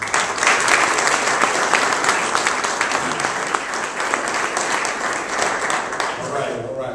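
Sustained applause from a press conference audience in Sacramento greeting Mayor Kevin Johnson, dense steady clapping filling the room at full volume for the whole stretch with a scattering of crowd noise.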